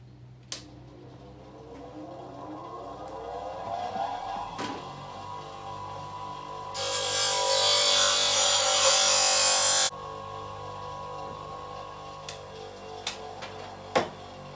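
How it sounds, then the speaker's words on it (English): Bench grinder sharpening the chipped leading edges of Flymo hover mower impeller blades, a loud broadband grinding burst lasting a few seconds amid quieter workshop handling and sharp knocks. "we'll just put those on the grinder and clean them up"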